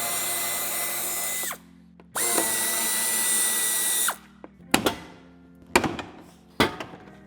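A cordless power tool whirs in two long runs while removing screws from a Mazda 2 bumper, its pitch winding down at each stop, followed by several sharp knocks and clunks, close and loud.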